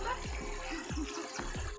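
Water splashing and flowing in a hill stream, a continuous wash with a few brief splashes, fairly faint.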